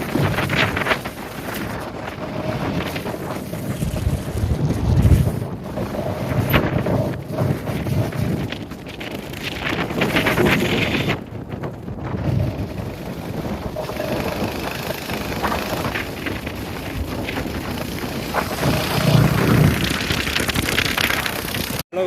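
A Royal Enfield Hunter 350 motorcycle is ridden on a long road trip from Assam to Bihar. Loud, continuous wind buffeting on the microphone dominates, with a steady engine drone underneath. No one speaks.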